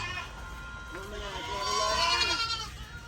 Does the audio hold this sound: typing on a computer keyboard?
no